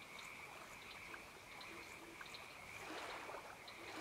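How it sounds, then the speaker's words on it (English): Ambient frogs croaking in the ARK Valguero map video game: faint, scattered croaks over a steady watery, trickling backdrop, with no talk. "You have the frogs."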